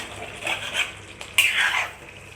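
A spoon scrapes and stirs chicken curry with chilli powder in a cooking pot, making a few short close clinking, scraping strokes with brief pauses between them.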